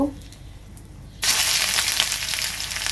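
Mustard greens hit a hot pan with garlic and onion, setting off a sudden loud sizzle about a second in that stays steady and close to the end, with no talking.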